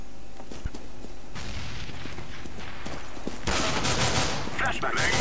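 Rapid gunfire from a CS:GO match, bullets striking an enemy's head, comes as a dense burst of sharp shots and impacts. A louder, fuller barrage erupts partway through, with a voice talking faintly underneath.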